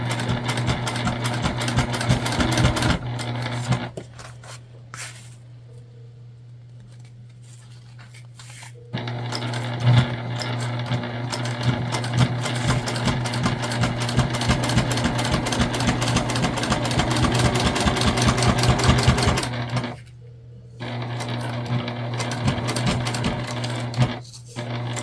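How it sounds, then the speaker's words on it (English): A Juki sewing machine stitches across the bottom of a bag pocket, its loud rapid mechanical whir running in long steady stretches broken by a few short pauses where the motor quiets. "And we'll sew across the bottom."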